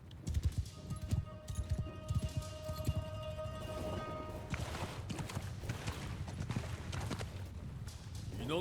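Galloping horse hooves of horse archers in the samurai strategy game Shokuho, a rapid clip-clop rhythm under battle noise, with a voice talking over it.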